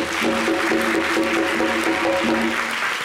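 An audience applauds steadily and loudly, dense continuous clapping throughout with a faint musical tone underneath and no speech.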